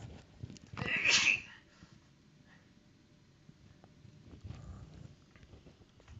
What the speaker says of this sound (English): Just had to sneeze there.